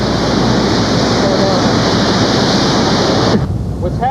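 Ocean waves wash steadily along the Pacifica coastline, a loud, continuous roar of surf and wind that cuts off abruptly near the end.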